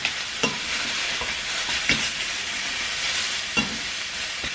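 Steady close sizzle of breakfast food frying in a pan, with occasional sharper clinks and scrapes from stirring over the continuous hiss.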